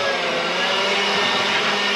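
An air blower roars steadily while blowing out the inside of a camper trailer, a loud continuous broadband rush with no pauses and no talking.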